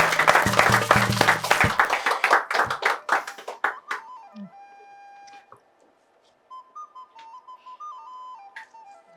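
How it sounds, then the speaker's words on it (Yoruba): A burst of audience applause lasting a few seconds, then fading out, followed by scattered electronic beeps and tones. "ẹ bá mi pàtẹ́wọ́ fún wọn."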